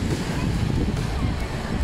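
Sea surf rolling onto the beach at Kołobrzeg on the Baltic coast, a steady broad wash of waves mixed with wind buffeting the microphone, loud and continuous with no clear breaks.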